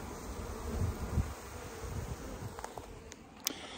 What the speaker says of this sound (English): I got a lot of bees hanging out on the front of this hive